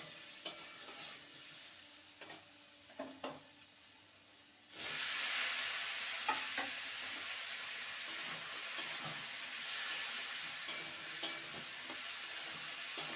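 Potato and ridge gourd (chichinga) with salt and turmeric frying in a pan: a quiet stretch of light clicks, then a loud, steady sizzling hiss bursts in about a third of the way through and continues, with occasional stirring knocks on top.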